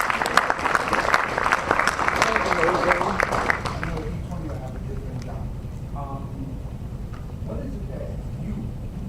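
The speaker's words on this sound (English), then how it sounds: "now give that an applause" A podcast audience breaks into applause, the clapping loud and dense for about four seconds before thinning into scattered claps with talk over the rest.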